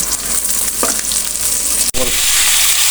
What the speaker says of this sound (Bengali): এর জন্য আমি পেঁয়াজ রসুন আর কাঁচামরিচ ভেজে নিচ্ছি